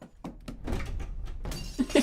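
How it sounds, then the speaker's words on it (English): A door being barged down in the video game Aviary Attorney: a series of dull heavy thumps and knocks, close and moderately loud, followed by a brief rough crash near the end. "Stand back, I'm barging the door down."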